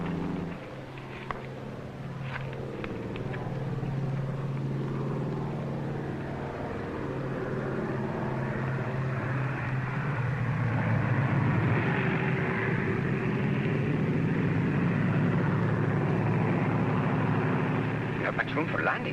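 A 1947 propeller airplane comes in to land over jungle, with a steady engine drone that swells and shifts in pitch over about twenty seconds while people talk over it.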